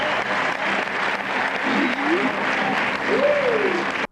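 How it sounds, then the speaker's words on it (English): Movie theater crowd cheering and clapping at the end of the first Spider-Man film, a dense, steady wash of applause with rising voiced whoops and shouts over it. "You can actually watch theater footage of crowds at the end of the first film just being so thrilled and awestruck by what they just saw and like cheering"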